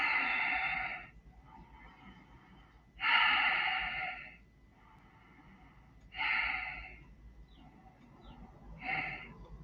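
Loud, hoarse breaths during a yoga breathing exercise after a breath hold, repeating at a slow rhythm: four strong rasping inhales roughly three seconds apart, each followed by a quieter exhale, close and with no talking.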